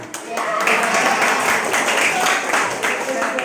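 A classroom group claps in a steady, dense burst of applause, close and loud, with voices mixed in underneath.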